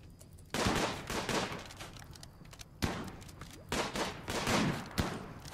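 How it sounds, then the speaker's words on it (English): Sniper rifle fire and other gunfire during a battle in the heavily modded video game RimWorld, with loud overlapping bursts of shots that crackle repeatedly over a few seconds. "That sniper rifle's a real problem."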